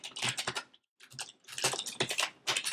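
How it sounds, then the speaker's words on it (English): Rapid typing on a computer keyboard while working in a PHP code editor, a dense run of quick clicking keystrokes in several bursts with one short pause, close and fairly loud. "sorry, typing a bit fast there"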